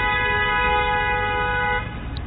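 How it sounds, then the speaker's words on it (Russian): Car horn honking in a single long, steady blast on a street in Khabarovsk, loud and close, cutting off abruptly with traffic noise behind it. "Сигналит."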